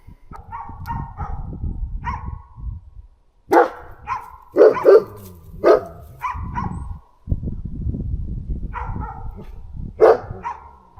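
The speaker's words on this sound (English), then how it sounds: "And now there are two dogs." Two dogs barking outdoors at night in the wilderness during a camping trip, repeated loud barks in irregular bursts and clusters, fairly close, with pauses between volleys.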